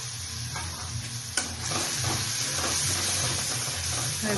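A paste of sesame and poppy seeds drops into a hot pan with cinnamon and cardamom and sizzles loudly and steadily up close, with a brief clatter as it goes in and no voices.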